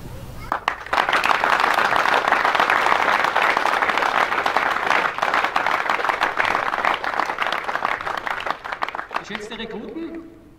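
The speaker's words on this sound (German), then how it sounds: "den Herrn einen entsprechenden Applaus zu gewähren" A crowd applauds army recruits at an Austrian Bundesheer swearing-in ceremony in Güssing, with dense sustained clapping that holds for several seconds and then tapers off as a voice begins.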